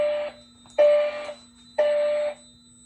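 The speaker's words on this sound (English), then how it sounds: "There has been a fire alarm reported in the building." A Notifier NFS2-640 fire alarm system sounds three strong, steady tone pulses about half a second long, separated by short gaps, loud and clear inside a building with no talking.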